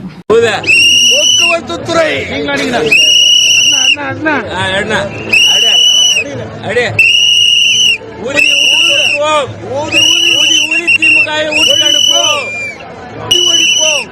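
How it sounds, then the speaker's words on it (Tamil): Shrill, piercing whistles from AIADMK party supporters at a political meeting in Chennai blast in repeated bursts over a loud, roaring crowd hubbub. "அண்ணாதிமுக தொண்டர்களும் விசில் அடிக்கிறாங்க இதை பாருங்க"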